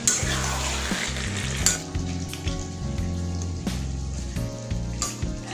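Chicken cooked with yogurt for biryani sizzles steadily in a pan, with a continuous close frying hiss, repeated scraping stirs and soft clanks of a spoon against the metal, and no talking.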